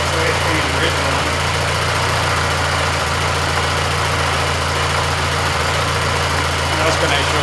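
An Austin Seven car engine idles steadily nearby, a continuous even low rumble with slight vibration that holds level throughout.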